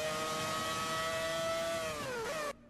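Mazda 787B race car engine in Forza 5, a loud sustained high-revving rotary wail held steady before the pitch dips, rises briefly and cuts off abruptly.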